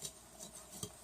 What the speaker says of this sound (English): And then all you do is stir it up